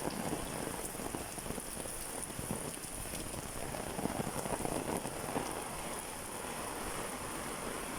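Heavy rain pours steadily, a dense hiss of drops drumming on surfaces with no pauses.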